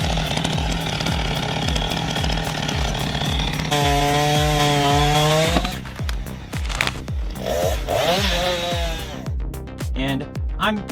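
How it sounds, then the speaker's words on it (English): A Husqvarna 357 XP chainsaw cuts through an uprooted tree trunk, its loud buzzing engine rising and falling in pitch as the chain bites and eases off, with music playing over it. "Experience the power and precision of the Husqvarna 357 XP chainsaw in action."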